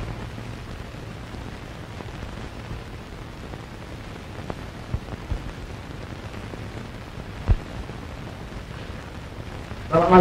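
Steady rain falls at night, a soft, even wash of noise with a few faint knocks and one sharp thud, ending in a louder burst.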